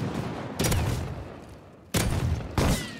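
Three loud, close gunshot bursts from a firearm in the video game Rust, each a sharp broadband crack with a short decaying tail, spaced unevenly over a few seconds with no talking.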